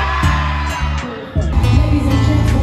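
Crowd at a campus concert shouting and cheering loudly over pounding music with deep bass, voices swelling into a big roar after a short dip, close and dense.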